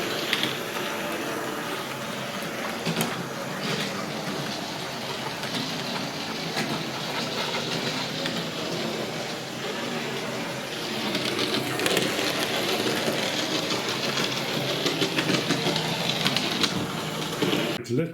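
A small digital model train runs with a continuous rattling whir, clicking steadily along the track and over points at close range with no voices over it.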